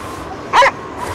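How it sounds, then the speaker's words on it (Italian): A single short yelp or bark from a dog in a cold, quiet setting in Cryostasis, sharp and close, standing alone against a low background hum. "Dobbiamo rimandare indietro i tuoi cani."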